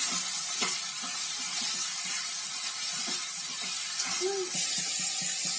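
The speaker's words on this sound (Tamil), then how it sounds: "இதை நல்லா கிளறி விடுவோம்" Steady sizzling from a hot pan as vegetables for pea kurma are stirred, with soft scraping strokes throughout, a faint voice briefly in the background.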